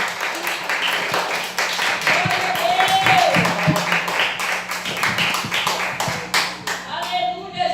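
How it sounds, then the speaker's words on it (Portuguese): In an evangelical church service, the congregation claps brisk, rhythmic rounds with a voice sounding over the clapping. "Vamos receber o servo de Deus com as palmas bem alegres para Jesus"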